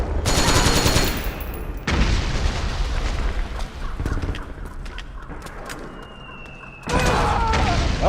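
Gunfire and booming shots from the Metal Gear Solid 4 video game come in loud bursts at the start and end, separated by a quieter stretch of scattered battle noise.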